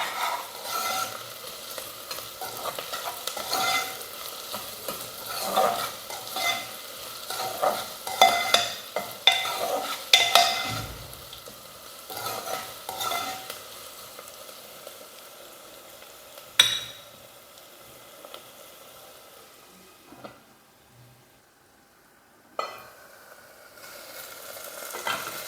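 Sliced onions salted and frying in a pan for bitter gourd curry, with a spoon stirring them: close, continuous scraping and stirring over a soft sizzle, louder early on, then quieter with occasional clinks.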